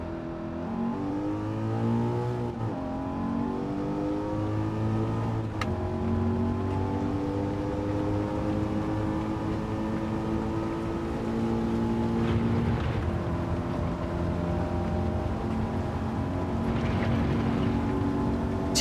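A powerful American muscle car engine roars steadily in a racing video game, its pitch sweeping up and down through gear changes and corners, loud and continuous with no voices.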